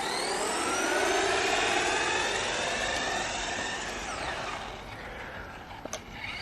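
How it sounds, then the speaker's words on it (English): An FTX Ramraider brushed RC car with a 15-turn motor driving at full throttle along a road, a loud rising whine that fades as it moves away, ending with a couple of sharp knocks. "this is actually the first time I've actually sent it at full throttle"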